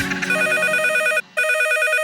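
A telephone rings with a bright electronic trill in two bursts separated by a brief gap, loud and close, with no talking.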